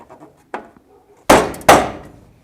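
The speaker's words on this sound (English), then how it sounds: "Couple tacks, fabricate that in with my hammer." A hammer strikes the metal cab of a Ford F100 during cab repair: a lighter tap comes first, then two loud, sharp, ringing blows in close succession with no talk.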